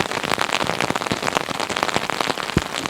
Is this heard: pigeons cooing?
no